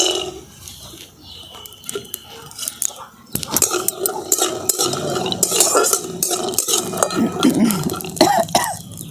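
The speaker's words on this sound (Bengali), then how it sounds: "দেখুন তেলটা গরম হয়ে গেছে, আমি তেলের মধ্যে দিয়ে দিচ্ছি এখানে 50 গ্রামের মতো বাদাম।" About 50 grams of peanuts tipped into hot oil in a wok, followed by clattering stirring and crackling frying, loud and close with scraping utensil sounds and no talk.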